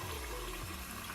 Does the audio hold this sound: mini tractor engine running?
no